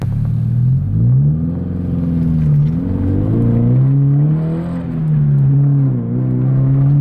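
A naturally aspirated car running a turbo tune idles and revs, its engine rising and falling in pitch across several rolling blips, loud and close, with no talking.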